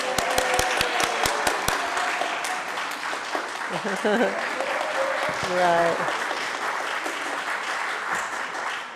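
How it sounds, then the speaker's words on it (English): Congregation clapping at a Sunday church service to welcome a new religious education director: a few sharp separate claps open it, then softer scattered applause under cheerful talking voices. "Let's clap."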